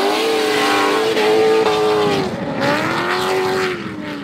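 Eurofighters drift cars slide and rev in tandem during pre-season testing, engines wailing loud and close with rising and falling pitch over the whole stretch, tires hissing beneath.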